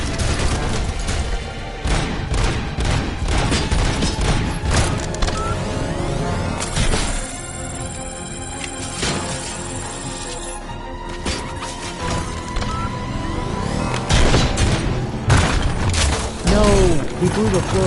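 A floor blown out by an explosion in a video game, a dense stretch of crashing, rumbling debris and clattering impacts that stays loud throughout, with a voice speaking over it.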